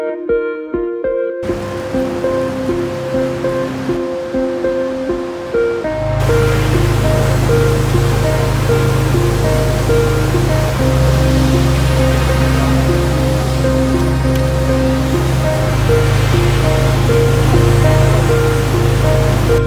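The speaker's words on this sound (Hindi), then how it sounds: "झरना, वाटरफॉल, प्रकृति का आनंद ले।" A mountain waterfall on the Kedarnath trek roars as a dense, steady rush of falling water, loud and continuous, with melodic background music fading in and out over it.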